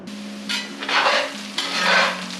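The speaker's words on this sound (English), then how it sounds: "Let's get these eggs fluffing up again." Eggs stirred and frying in a pan for a breakfast burrito, two scraping stirs over a steady sizzle, close up.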